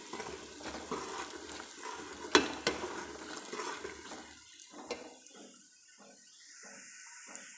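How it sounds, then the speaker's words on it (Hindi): Dry spices fry and are stirred in a pan while cooking beef paya, with irregular scraping and clattering strokes over a low sizzle that fades to quieter, sparse stirs near the end. "अब जी इसमें जो सारे ड्राई स्पाइसेस हैं वो डालने लगे हैं, और इनको इस तरह से ज़रा भून लेना है"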